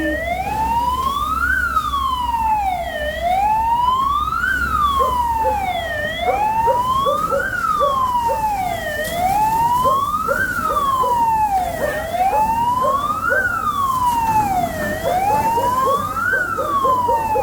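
Fire truck sirens wail in repeated rising-and-falling sweeps, loud and continuous over a rumbling engine, as fire engines arrive at a house fire in Doña Esperanza.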